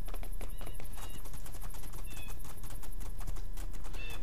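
Hooves of a horse ridden in the video game Two Worlds 2 clip-clop in a fast, steady rhythm, loud and continuous under a dense bed of game ambience.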